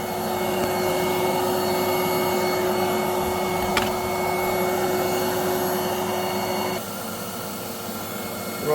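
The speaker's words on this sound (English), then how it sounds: "Right, I've got the hoover going." A hoover vacuum cleaner runs steadily up close for a carburettor synchrometer bench setup on Weber 45 DCOE carburettors, a loud constant whine and roar that dips slightly in pitch near the end, with a brief click midway.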